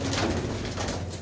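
A 20-year-old pigeon of an old breed gives a low, continuous coo close by, steady throughout the brief stretch with no talking.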